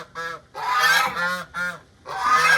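Geese honk in loud, harmonic bursts, several calls close together with brief gaps between them, nearby and with no voices.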